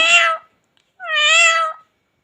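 A talking parrot imitates a cat's meow twice, giving two clear, close, tonal meow-like calls separated by a short silence, the second longer than the first.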